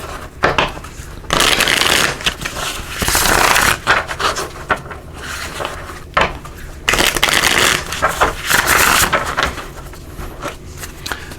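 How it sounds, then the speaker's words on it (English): Light Seers tarot cards being shuffled by hand in several brisk bursts of riffling and sliding, close and crisp, separated by short pauses with no talking. "Just do a good shuffle here."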